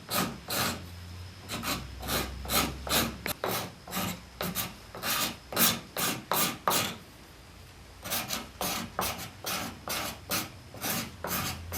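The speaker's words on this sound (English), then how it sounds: "Now, so I can probably scrape it." A hand scraper works the curved knuckle of a wooden chair handhold in repeated rhythmic strokes. The rasping pulses come close and clear, pause briefly midway, then resume, with no talking.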